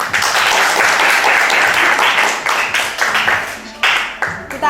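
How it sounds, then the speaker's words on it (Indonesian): A classroom group claps after game winners are announced in a mechanical engineering lesson, loud close applause that thins into scattered claps near the end with a voice breaking in. "Tepuk tangan."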